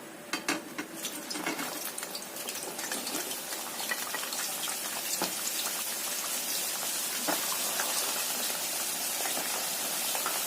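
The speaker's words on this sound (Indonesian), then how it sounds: "Kita goreng sebentar lagi, ini sampai kuning kecoklatan kayak gitu atau kering. Kita masukkan lagi kentangnya." Potatoes fry in hot oil to a golden-brown crisp, a dense steady hiss and crackle that builds and holds, with a few clinks of a utensil early on and no talking.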